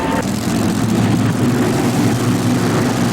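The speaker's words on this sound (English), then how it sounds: "This is a tractor owned by Earl Henderson. It's the Papa Bear 3" Papa Bear 3, a modified pulling tractor at the 1991 NTPA Indy Super Pull, roars with a loud, steady, dense engine drone throughout, its rumble filling the arena without pause.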